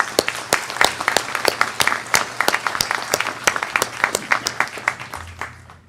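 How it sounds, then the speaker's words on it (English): A commencement audience claps for graduates, a lively burst of dense, uneven hand claps that stays loud and close before easing off near the end, with no speech over it. "I want to give you a round of applause and pat yourselves on the back as well."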